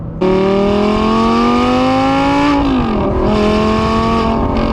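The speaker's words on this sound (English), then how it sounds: "Stock exhaust on the V10 R8s sound great." A 2010 Audi R8 V10 with gated manual and stock exhaust revs loudly and close, a high screaming engine note climbing, dipping briefly with a gear change, then rising again.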